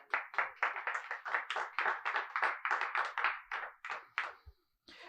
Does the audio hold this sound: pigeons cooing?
no